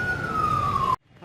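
An ambulance siren from a vehicle supplied by Tata Steel Downstream in Jamshedpur gives a single loud, slowly falling wail that cuts off abruptly, followed by near silence.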